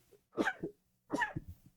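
Two close sneezes from a person, each a sharp, breathy burst about a second apart, fairly quiet against a silent background.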